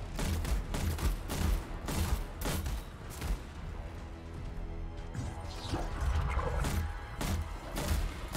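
Firewall mortar strikes in the Anthem video game during a Colossus fight against a large enemy, a dense run of loud booming blasts and crashes repeating over steady game noise, with no talk.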